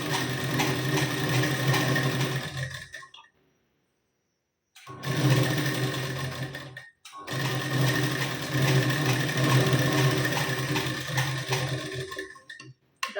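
Sewing machine stitching a double seam on a blouse, running in three long steady bursts of loud, even motor whirr and needle clatter, separated by brief pauses of silence; no talking.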